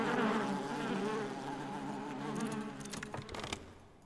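Bees drone in the video game Book of Hours, a close, wavering buzz that fades slightly before a few sharp bursts near the end.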